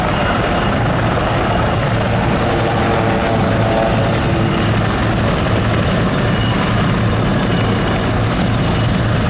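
Royal Navy AgustaWestland Wildcat helicopters in a flying display at an air show give off a loud, continuous rotor and engine roar that holds steady throughout.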